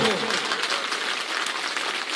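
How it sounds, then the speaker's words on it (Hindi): Audience clapping at a political rally in Bihar, a steady dense patter of many hands filling the whole moment, with some speech-like sound mixed in. "आप बजा लीजिए ताली भर जो"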